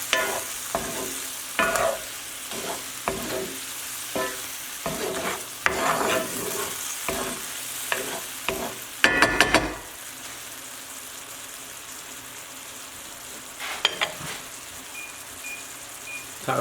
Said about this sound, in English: And just mix together for about 2 or 3 more minutes.